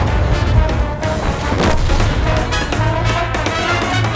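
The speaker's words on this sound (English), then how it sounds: "puts the remaining round into a charging medium tank" Tank cannon fire in a World of Tanks replay, shells slamming into a charging medium tank; dense, continuous booming and crashing battle noise with repeated heavy shots layered over a rumbling low end.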